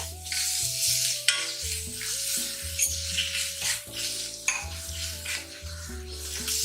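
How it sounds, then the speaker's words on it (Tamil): Ginger garlic paste sautéing with onions in a pan for a green pea kurma, a steady close sizzle with repeated metal spoon scrapes and clinks against the pan, and no talk. "இஞ்சி பூண்டு பேஸ்டோட பச்சை வாசனை மாறுறது வரைக்கும் நல்லா வதக்கி விட்டுக்கோங்க"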